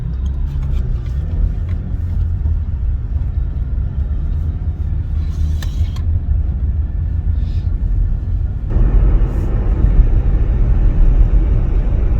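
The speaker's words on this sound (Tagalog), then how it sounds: "We're out in the car" Steady low engine rumble from inside a moving car, loud and continuous, with the road noise swelling heavier toward the end; no talk.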